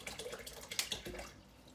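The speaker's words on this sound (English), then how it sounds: "I'm just going to rinse these out before I let them dry" A water bottle and its lid are rinsed in bleach water, with running and splashing water from a tap, a few sharper splashes and drips, close and moderately quiet before fading out.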